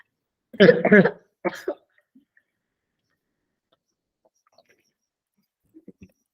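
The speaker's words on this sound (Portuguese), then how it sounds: "eu tô tossindo tanto." A harsh cough bursts out twice close to the mic, a short raspy follow-up, then near silence with faint small clicks.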